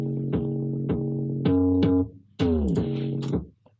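A synth runs through a Camel Crusher distortion plugin with its fat mode off, playing a few separate bright, buzzy stabs and notes, some bending downward, with short gaps between them and no voices.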